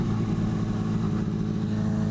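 A scooter's small engine hums past at moderate distance, a steady mid-pitched drone with slight revving, fairly quiet against the street background.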